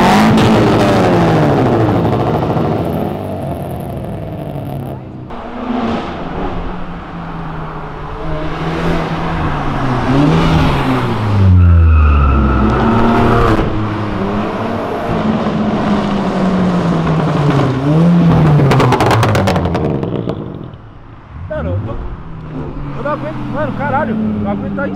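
A stage 4 Volkswagen Jetta GLI tuned to 400 hp accelerates hard, its engine climbing through repeated loud, sweeping revs that fall back between gear changes, with excited voices shouting over it close by.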